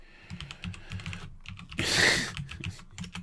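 Rapid typing on a computer keyboard picked up over an open microphone during an online call, a near, busy clatter of key taps with a brief burst of broadband noise partway through.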